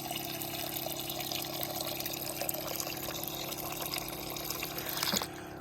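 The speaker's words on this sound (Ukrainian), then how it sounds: "потім я це все переливаю в акумулятор, акумуляторний оприскувач. Зараз я заливаю." Fertilizer solution being poured into a battery-powered sprayer tank outdoors: a steady, close rush of liquid with a faint continuous hum underneath, ending abruptly near the close.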